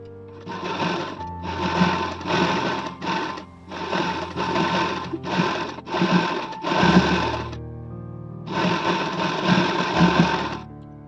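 A sewing machine stitches round the lining of a princess-cut blouse in repeated loud, whirring runs of rapid needle strokes, broken by short pauses between bursts, close up and alone.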